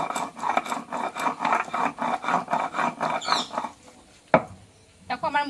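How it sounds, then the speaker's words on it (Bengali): Cashews, melon seeds, poppy seeds, sesame and green chilies are ground by hand on a stone grinding slab, a rhythmic scraping and rubbing in quick repeated strokes, then a sharp knock and a brief pause. "এটা আমি একসঙ্গে বেটে নেব। এটা আমি সিলে বেটে নেব,"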